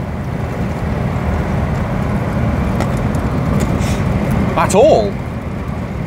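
Armstrong Siddeley car on a test drive after chassis repair, a steady broadband road and engine rumble heard from inside the cabin, continuous and fairly loud, with a brief voice partway through.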